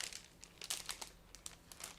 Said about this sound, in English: So now I'm opening the first plastic bag.